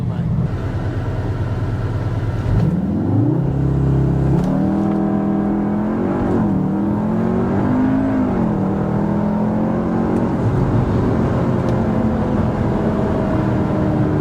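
A Cupra Formentor VZx with all-wheel drive launches hard from standstill to 100 km/h, its engine climbing through rising revs with clear gear changes, loud and close for the whole run, with a voice briefly audible over it.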